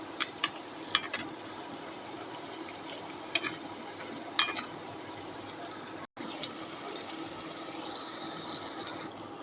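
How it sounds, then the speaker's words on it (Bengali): Pitha cakes frying in hot soybean oil give off a steady, close sizzle with scattered sharp pops and crackles throughout, briefly cutting out before the hiss resumes. "এপিট ওপিট করে খুব ভালোভাবে ভেজে নিতে হবে।"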